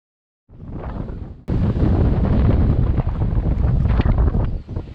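Strong wind buffets the microphone on a seaside road in Hac Sá, Coloane, Macau, a dense roaring rush that starts suddenly, surges louder after a brief gap and stays loud and continuous throughout.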